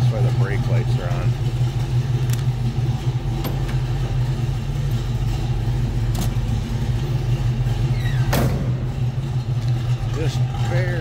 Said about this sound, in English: As you can tell by listening to that V8, it sounds good